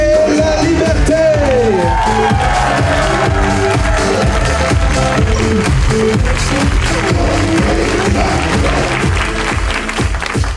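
A packed comedy-club crowd at a live podcast show cheers, claps and whoops to welcome guests onstage, with loud, dense, continuous applause and scattered shouts for the whole stretch.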